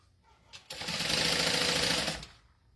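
A sewing machine stitches a bag seam at a 4 stitch length in one fast, steady burst of clattering needle strokes lasting about a second and a half, close and clear before it stops.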